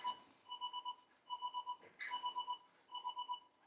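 An alarm going off indoors with rapid groups of four shrill electronic beeps repeating steadily, clear and close, broken once by a brief shout.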